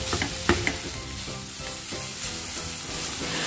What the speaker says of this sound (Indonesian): Kemudian masukkan perdagingannya dan tumis sampai benar-benar matang.